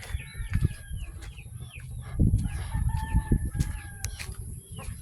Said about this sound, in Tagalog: Ah, no, mga manok yan.